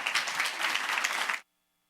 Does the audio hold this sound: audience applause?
yes